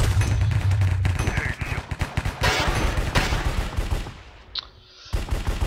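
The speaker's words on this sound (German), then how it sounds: "kannst du mal hier ein bisschen weniger schießen?" Rapid gunfire from a Minecraft Cops and Crimes match crackles as dense repeated bursts through most of the stretch, loud and close, then drops away briefly near the end before resuming.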